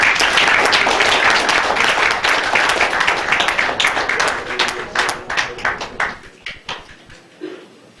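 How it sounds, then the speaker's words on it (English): Applause fills a council meeting chamber in honor of hurricane preparedness, loud and dense at first, then thinning into a few scattered individual claps before stopping. "Let's give a round of applause for Hurricane Preparedness"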